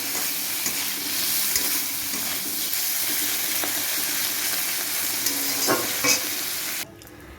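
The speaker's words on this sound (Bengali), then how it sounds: "চিংড়ি মাছগুলো ভাজা বসিয়ে দিয়েছি আগে" Shrimp fry in a pan with a continuous sizzle and crackle, close and fairly loud. A few sharper pops sound along the way before the frying suddenly drops off near the end.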